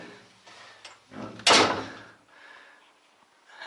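The entrance door of an old cave house in Mardin, Turkey, swings open: soft rattles lead into one loud scraping clatter midway, followed by quieter shuffling inside.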